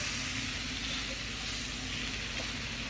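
Banana peels frying on a flat griddle as they are flipped, a steady close sizzle with faint scraping, no talk.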